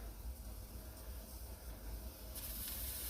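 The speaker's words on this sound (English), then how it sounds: "You're hearing it sizzle mainly because of the water that I splashed on there" Water splashed onto a moka pot sizzles on an electric stove as espresso brews, a faint, steady hiss that swells brighter near the end.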